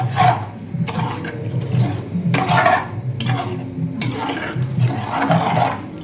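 Water is stirred into mutton masala in a cooking pot for Dindigul Thalappakatti-style mutton biryani, giving close, rhythmic scraping and sloshing strokes, about six bursts in a row with a low simmering rumble underneath.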